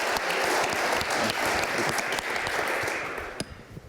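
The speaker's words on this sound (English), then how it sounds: "big round of applause" After a talk on AI and ML innovation, a conference audience breaks into full, dense applause that holds steady before tapering off, with a few sharp claps standing out near the end.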